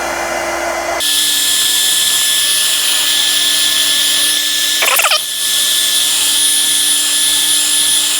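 A heat gun blows hot air onto the cracked back glass of a Samsung Galaxy S22, a loud steady whining roar that starts abruptly and holds, with a brief warbling shift midway.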